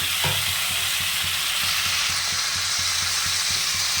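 Malabar spinach seeds go into a hot frying pan with a brief clatter, then a steady sizzle continues under rhythmic stirring strokes.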